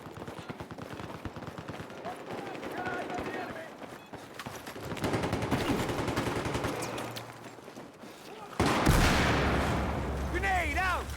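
Automatic gunfire in the shooter game Battlefield, bursts of rapid shots and distant booms under a player's ongoing chatter, ending in a louder, harsher stretch of fire.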